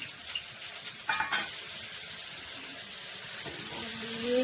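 Onion and tomato fry in a pan in a home kitchen, a steady close sizzle throughout with a few brief clinks of stirring near the start.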